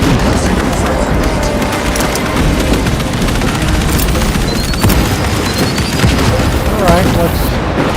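Space Marine 2 battle, a dense, loud barrage of booming blasts and rapid gunfire, with a grenade explosion in the mix, and a person talking over the din now and then.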